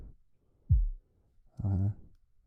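A deep, punchy kick drum hit with a quick downward pitch sweep, followed by a short burst of low voiced sound.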